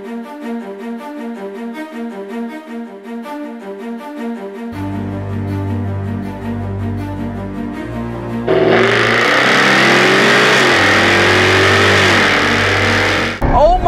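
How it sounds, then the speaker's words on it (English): A Jaguar F-Type R AWD's supercharged engine idles with a deep throb, then revs hard into a loud, roaring exhaust blast that fills the space before cutting off. "pumping out that earth-shattering sound through the exhaust is not the V6"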